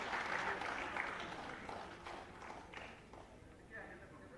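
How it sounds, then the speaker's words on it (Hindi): Applause at a state-level wildlife week award ceremony, with a burst of clapping from the audience that gradually fades as a voice continues over it. "आउ एक करताली अभिनंदन जणाइबु बिजू पट्टनायक सम्मान लाभ करिथिबा श्री बिकिज नाग को।"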